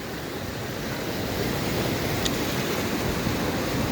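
Floodwater after heavy rain in Mahuva rushes past in a steady, loud, broadband roar that stays even throughout, with no voices over it.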